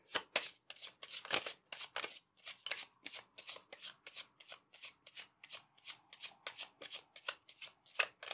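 Lenormand cards are shuffled over and over in quick, regular riffling bursts, each a crisp papery flutter, close and fairly quiet with no talking.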